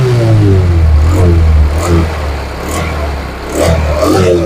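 A repaired Honda CD 70cc motorcycle engine runs steadily at a low, throbbing idle, then is revved up several times in short bursts, close and loud with no talk over it.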